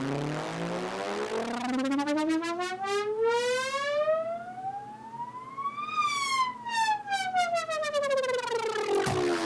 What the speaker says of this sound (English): So you can hear that's working with the LFO, and it's working on the cutoff.